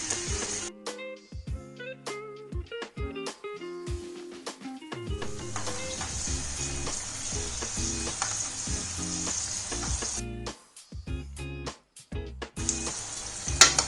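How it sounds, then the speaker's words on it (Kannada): Paneer corn pakodas deep frying in oil over a medium flame, a continuous bubbling sizzle broken by sharp clinks and scrapes of a metal utensil against the pan. "ಇದು ಒಂದು 5 ರಿಂದ 6 ನಿಮಿಷದವರೆಗೂ ಎಣ್ಣೆಲಿ ಫ್ರೈ ಆಗಬೇಕು"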